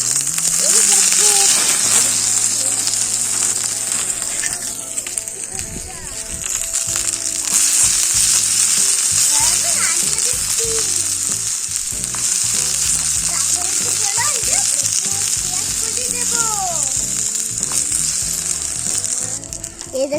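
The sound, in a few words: potatoes frying in hot oil while stirred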